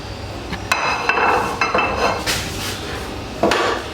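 Onion, garlic and ginger go into a pressure cooker for chicken karahi, making a handful of sharp metallic clanks and soft thuds against the pot, close and fairly loud.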